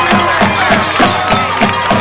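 A loud, dense 1998 high school football crowd at Magnolia vs Monroe Central cheers, with a steady pounding rhythm from the band running through the roar.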